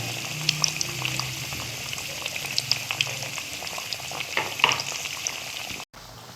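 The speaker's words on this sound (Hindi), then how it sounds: "आप मीडियम फ्लेम पर हम इनको पीसेस को फ्राई करते हैं।" Pieces of fish frying in hot oil over a medium flame for a Lahori fish fry, giving a steady, close, crackling bubble and sizzle with scattered pops, no talking, cutting off abruptly near the end.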